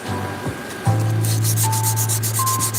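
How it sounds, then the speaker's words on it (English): Steady abrasive rubbing of sandpaper against a turned wooden pen body spinning on a lathe, continuous and close, with a constant low motor hum beneath the scratchy strokes. "I hate sanding."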